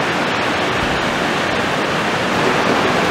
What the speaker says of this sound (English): you can hear the rumbling of the Sotikhola river